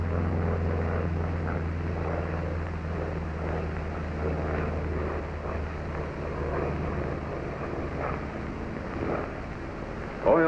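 A World War II US fighter plane with a propeller engine in flight, heard as a continuous loud engine drone with wind rush inside the cockpit, steady across the whole stretch.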